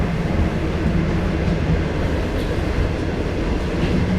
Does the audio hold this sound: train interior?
yes